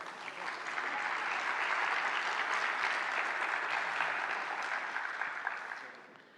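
Sustained audience applause at a Peruvian labour-law congress ceremony during a diploma presentation, a dense even clapping that swells in and holds steady for several seconds before easing slightly, with no talk over it.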